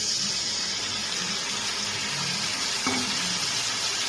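Spice paste of turmeric, ginger, tomato and sugar mixed with water tipped into a hot pan for a chhana bora jhol, giving a steady watery sizzle with a brief splash near the end.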